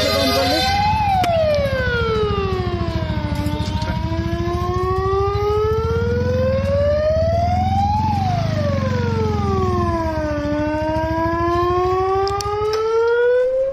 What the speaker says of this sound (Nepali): दमकल, दमकल आइरहेछ